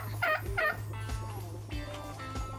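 Turkey hens on a farm, including a big broad-breasted bird, give several loud bursts of gobbling and clucking calls close by over a steady low hum, with no talking.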